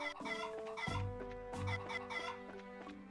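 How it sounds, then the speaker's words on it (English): Chickens cluck and a rooster calls in a video game, with several close, loud, repeated clucks and calls sounding alone over a steady musical background. "Bug the chickens."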